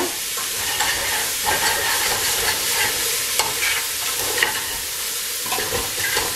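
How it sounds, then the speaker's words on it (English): A spoon scrapes browned bits off the bottom of a sauce pan for homemade spaghetti and meatball sauce, giving a steady, close sizzle with repeated scraping strokes throughout. "I'm going to scrape up those little bits from the bottom because we want those to become a part of our sauce as well"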